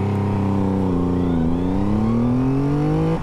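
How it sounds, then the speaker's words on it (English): A 2024 Triumph Rocket 3 Storm motorcycle launches, its engine note climbing steadily under hard acceleration, loud and close for a few seconds with no talking. "Right, let's go for a little bit of a launch on the Rocket."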